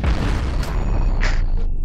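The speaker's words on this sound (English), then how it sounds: "Oh, we've actually blown the enemy ship in half." A heavy, dense rumbling boom as an enemy spaceship is blown in half during combat in Cosmoteer, with sharp bright bursts flaring partway through, loud and close throughout.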